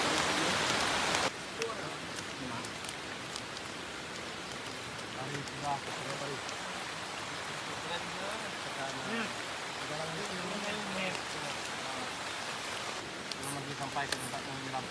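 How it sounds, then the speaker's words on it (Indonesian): Heavy rain pours steadily on a forest during a riverside camping trip, with dense hiss of drops on leaves and surfaces throughout and quiet voices faintly underneath. "Kondisi hujan teman-teman"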